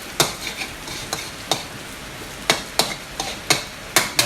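Eggs for fried rice are stir-fried over a raised flame, and a spatula strikes the pan in regular sharp scrapes and knocks, roughly two per second, over a quiet background sizzle.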